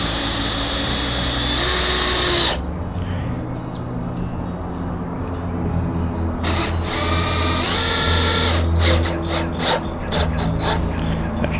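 A power drill whirs in sustained bursts, pausing and restarting as it drives screws into wood for a hexagon flower bed, loud and close, with faint birdsong in the background.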